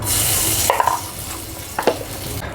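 Ground spices hit hot butter in a wok with a loud, steady sizzle, broken by a couple of brief scraping stirs close up.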